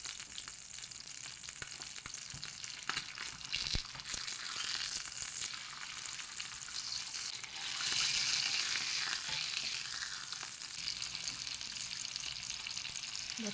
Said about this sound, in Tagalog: Fry this 1 minute per side.